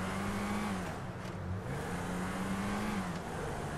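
A car accelerating in GTA V, its engine a steady drone whose pitch climbs, drops briefly, then climbs again, playing loud and continuous with no voices.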